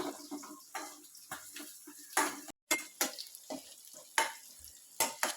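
A spoon stirs sautéed onions and chilies with masala powder in a pan, giving repeated close scraping and clinking strokes over a soft, intermittent sizzle, with no talking.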